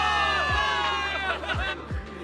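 Soldiers in a video game cutscene cheer as a crowd, a steady wash of massed voices with rising whoops, loud and continuous under music-like tones for the whole stretch.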